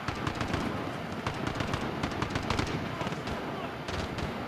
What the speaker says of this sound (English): there's like a turret up there. It's annihilating me.